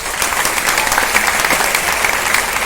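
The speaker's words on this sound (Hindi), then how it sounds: "प्लीज आप लोग ताली बजाएं." Loud, dense audience applause fills Kennedy Auditorium at AMU Aligarh during a stage play, a steady wall of clapping from a large crowd throughout.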